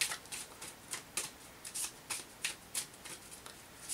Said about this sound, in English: I shuffle the decks thoroughly